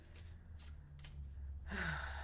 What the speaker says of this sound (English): Let me just shuffle up here.